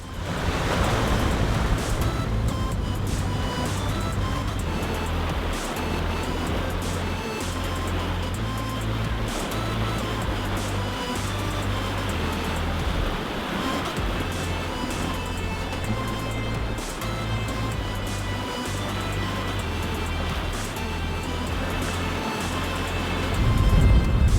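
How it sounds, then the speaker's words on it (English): A sailboat on an ocean passage runs fast in a steady breeze, with a constant rushing wash of waves along the hull and wind noise filling the clip from start to finish, no voices. "Sailing nice and fast today."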